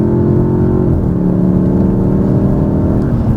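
A 2026 Dodge Charger R/T with the Sixpack six-cylinder engine pulls in sport mode with a steady, loud droning engine note, dipping briefly in pitch then holding a sustained hum, with no talk over it.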